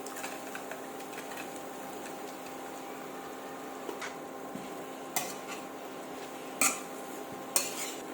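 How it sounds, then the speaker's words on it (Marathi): Spices and fried okra are stirred together in a pan, giving faint scraping under a quiet background hiss, with a few sharp utensil clinks against the metal toward the end. "या गोष्टी सगळ्या एकत्र मिसळून घ्यायच्या आणि याच्यामध्ये आपण तळलेली भेंडी घालून घेणार आहोत"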